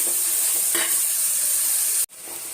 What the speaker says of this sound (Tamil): இது ரெண்டும் நல்லா வதங்கட்டும்